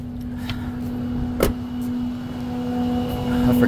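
A tow truck's wrecker bed is lowered to the ground beside a towed 4Runner, a steady droning motor whine running throughout with one brief clunk partway through.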